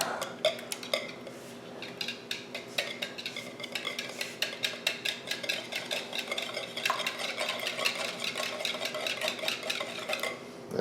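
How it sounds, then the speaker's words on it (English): Five eggs are whisked together in a bowl, a fast, steady run of close clicking strokes against the sides that continues throughout, with no talking. "Take the 5 eggs, whisk them together."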